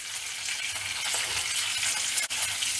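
Ginger garlic paste frying in a pan for a drumstick milk curry, a soft steady sizzle and crackle close by with faint stirring, no voices.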